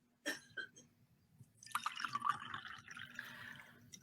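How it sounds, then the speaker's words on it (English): Port wine is poured into a glass: a couple of faint drips, then a steady splashing pour that gurgles and fills for about two seconds, quiet and close. "May I pour you another glass of port, sir?"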